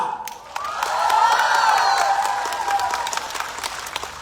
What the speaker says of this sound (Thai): ขอเสียงปรบมือให้กับโบนอัพควัน